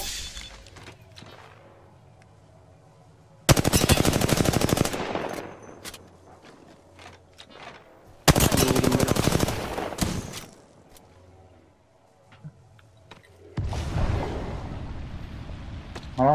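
Gunfire in a shooter video game, heard as several loud, dense bursts of automatic fire separated by quieter stretches, with some brief talk in between.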